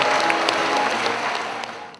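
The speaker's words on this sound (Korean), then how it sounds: "여러분 뜨거운 박수로 맞이해주시기 바랍니다" A hall audience claps warmly for the opening declaration of the 28th Busan International Short Film Festival in 2011, steady dense applause that slowly fades.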